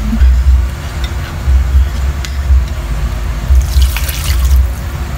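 A little water pours into a cooking pot while kare-kare is being made, a steady splashing gush running throughout with low rumbling beneath.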